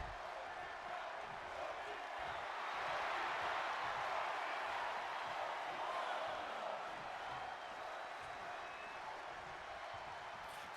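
Arena crowd in the WWE 2K23 wrestling game, a steady roar of cheering that swells slightly in the middle, with a commentator's voice talking over it.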